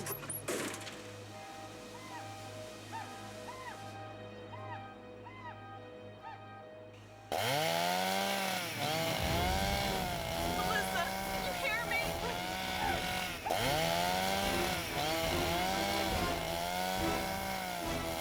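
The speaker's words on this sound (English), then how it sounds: "My other chainsaw's in the back." A chainsaw cutting wood roars and revs loudly in rising and falling bursts, with urgent shouting voices over it.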